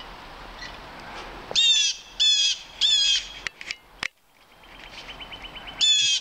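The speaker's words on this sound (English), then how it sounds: "red-tailed hawk" Red-tailed hawk calling near Halcyon Pond on a March day: several short bursts of high, harsh calls spaced a second or so apart, fairly close and loud over a quiet outdoor background.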